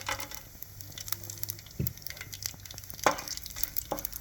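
Whole spices such as cinnamon, cloves and star anise crackle in hot oil in a pan for chicken biryani, a soft close sizzle with scattered pops and a few sharper clinks of spices dropping in.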